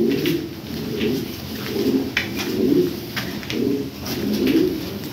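Pigeons kept for sale coo in repeated soft, low, rolling calls, several birds overlapping close by with faint chirps above, no talking.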